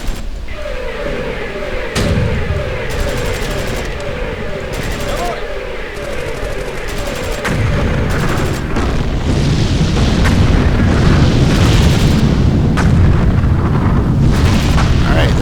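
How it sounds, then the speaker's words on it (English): Railgun and Nebelwerfer rocket fire from a World War II strategy game, Sudden Strike 3, come as a series of heavy booms and bursts, growing denser and louder toward the end amid game noise. "Let's fire the railgun over here. And the Nebelwerfers one more time."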